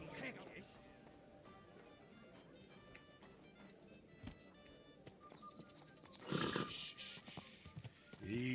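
A horse in Kingdom Come Deliverance 2, with faint hoof clops and an occasional snort or whinny. A voice talks over the animal, and a louder burst of movement comes near the end.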